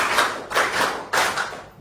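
Students clapping in unison in a classroom, a few loud, close, sharp bursts of claps in a quick rhythmic pattern.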